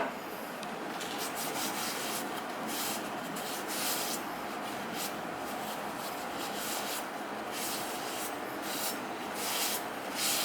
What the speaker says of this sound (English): Get as much rust off of there as we can so it's nice and flat.